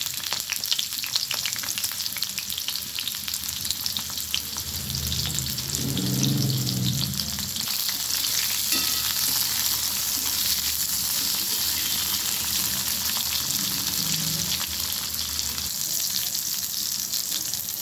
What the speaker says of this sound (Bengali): পটলগুলো একটু ভাজা ভাজা হয়ে গেছে